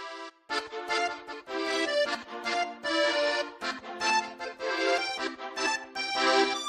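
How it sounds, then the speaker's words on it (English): Spiccato String Up Plus preset from the FL Studio Expand plugin: bright short bowed string phrases in quick detached bursts with brief gaps, alone and moderately loud, no talking. "After that, I went and did this sound from Expand, Spiccato, String Up Plus."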